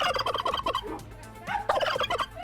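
A turkey gobbling close by, two loud rapid warbling bursts separated by a brief pause, with no voices.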